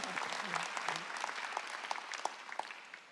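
A church congregation claps steadily during a Sunday service, a dense patter of many hands, fairly distant and moderately quiet, with no voices over it.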